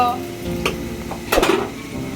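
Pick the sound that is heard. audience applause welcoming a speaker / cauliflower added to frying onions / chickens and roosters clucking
cauliflower added to frying onions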